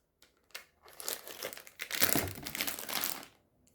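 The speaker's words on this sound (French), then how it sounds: "j'avais acheté dernièrement de la pâte Fimo. Donc on va en prendre et on va ouvrir ensemble." Plastic packaging of Fimo polymer clay crinkles and tears as it is opened up close, a steady loud rustling that swells and fades over a few seconds, no voices.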